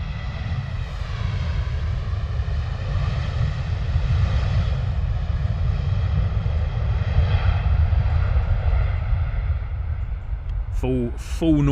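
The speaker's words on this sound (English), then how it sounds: "Full noise and full power from that Boeing at 737 on the departure there from Jet 2" A Jet2 Boeing 737 departs at full power, its engines giving a loud, sustained rumbling roar that holds steady across the whole stretch before a brief voice cuts in at the end.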